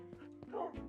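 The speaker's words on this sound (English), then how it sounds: "More dogs." Minecraft dogs bark in a few quick, faint yips and short barks spaced irregularly, with a voice speaking alongside.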